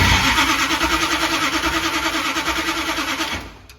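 A 1971 Dodge Demon 340 V8 engine cranks and runs with a rapid, pulsing churn, loud and close, then cuts off abruptly near the end.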